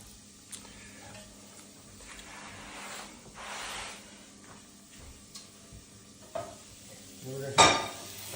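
Soft, steady sizzling of Brussels sprouts in a hot pan, with occasional clinks and scrapes of utensils against the pan, close by.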